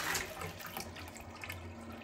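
Toilet in a student dorm room in Bergen, Norway, flushing with a quiet, continuous gush of running water and faint gurgling, close but low in level.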